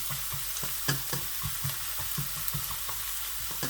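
Onions fry in a pan over low heat for a macaroni and mince dish, a steady close sizzle broken by rhythmic scraping knocks of a stirring spoon.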